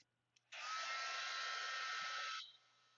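A hair dryer blows on a freshly painted mixed-media art journal page, switching on with a steady, loud whirring roar for about two seconds before cutting off, with no talking.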